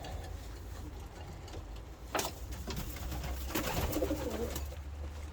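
Breeding pigeons coo softly in their loft, low murmuring calls repeating under a steady background hum, with a few sharp clicks and wing or cage noises scattered through.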